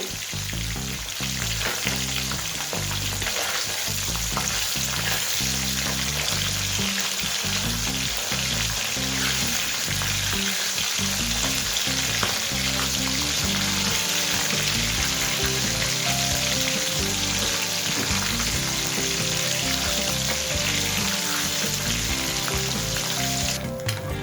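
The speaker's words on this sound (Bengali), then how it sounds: "মাছগুলো আমি প্রথমে 4টে ভেজে নিচ্ছি, দুবারে আমি মাছগুলোকে ভেজে নেব।" Parshe fish frying in a pan of hot oil, a steady loud sizzle that crackles continuously throughout with no speech.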